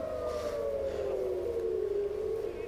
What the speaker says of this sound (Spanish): están sonando las sirenas en Tel Aviv